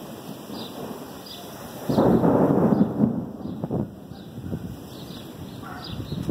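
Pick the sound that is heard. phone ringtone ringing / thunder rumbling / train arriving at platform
thunder rumbling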